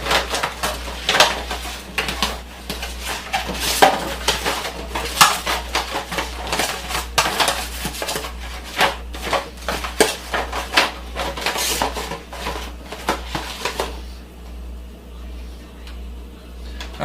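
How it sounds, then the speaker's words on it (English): Pasta sauce is spread across the bottom of a lasagna pan with a utensil, giving a steady run of clinks, taps and scrapes against the pan before quieting near the end. "I'm going to add a little bit of sauce to the bottom of the pan"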